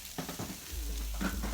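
Ribeye and T-bone steaks sizzle on a hot steel grill with a steady, close frying hiss, joined by a low rumble partway through and a few soft scrape-like knocks.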